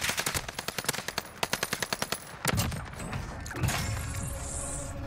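Automatic gunfire in the video game Warzone, a rapid regular string of loud, close shots that stops partway, followed by crashing impacts and mechanical rattles.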